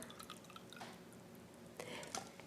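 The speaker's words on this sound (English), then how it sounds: "I'm going to take that water where I put the onions, put it in here." Water used to rinse onions poured into a container in a kitchen, quiet trickling and dripping with two brief louder pouring bursts, heard close and alone.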